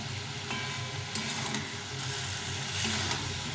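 Cauliflower and spices, including chili powder, sauté in a pan with a dense, continuous close sizzle and faint stirring scrapes, loud and unbroken, with no voices.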